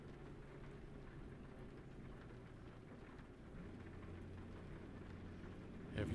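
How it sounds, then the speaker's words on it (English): Rain falls in American Truck Simulator during a foggy drive through Idaho in career mode; a faint, steady rain hiss sits over a low engine drone and rises slightly at the very end. "it hasn't stopped raining for almost 12 hours in game."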